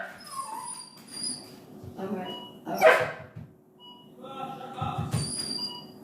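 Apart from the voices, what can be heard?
dog barking at the doorbell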